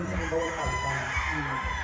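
Gamefowl roosters crow and cluck nearby at a breeding farm near Mount Banahaw, drawn-out calls overlapping close and loud alongside faint background noise.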